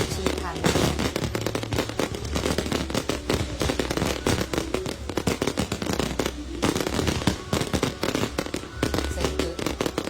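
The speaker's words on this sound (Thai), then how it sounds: "ซึ่งจุดยิงดอกไม้ไฟก็ มีหลายจุดด้วยกันเอาจุดดอกไม้ไฟที่ผสมผสานและดอกไม้ไฟพิเศษ" Fireworks at the Laos National Day celebration on 2 December 2025 marking the 50th anniversary, fired from many launch points: rapid, dense crackling bursts and pops in continuous volleys, with a voice talking underneath.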